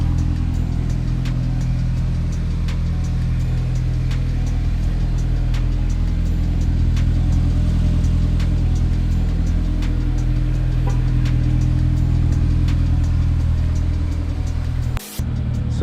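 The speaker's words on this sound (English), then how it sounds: "GoPro Hero 4, the S2000 is warming up." A Honda S2000 engine warming up, holding a steady, continuous idle rumble throughout with no voices, ending with a brief handling knock.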